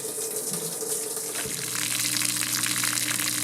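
Cold tap water pours into a washing machine set to quick wash, a steady rushing gush that swells louder about halfway through, close and without talk.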